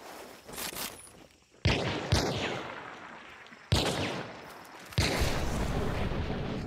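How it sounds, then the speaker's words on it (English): Gunfire in the video game Hunt: Showdown at Hemlock, with four sharp, loud shots spaced about a second apart, each followed by a ringing decay, close and without any talking. "I'm gonna keep shooting."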